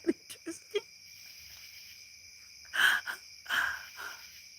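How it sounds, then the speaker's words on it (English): Shrill insect buzzing, like cicadas, drones steadily in the background, with a few brief clicks at the start and two louder sharp bursts midway. "Hear the lovely sound, cicadas."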